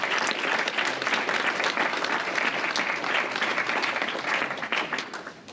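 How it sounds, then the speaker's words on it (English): An audience at a hackathon breaks into a round of applause, a busy, sustained clatter of many hands at steady volume, tapering slightly near the end. "Round of applause."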